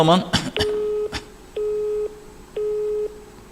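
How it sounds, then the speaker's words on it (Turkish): Telephone busy signal, a steady beeping tone repeating in even on-off pulses about every second, heard after a brief burst of speech at the start. "belediye başkanı meşgul veriyor telefonu"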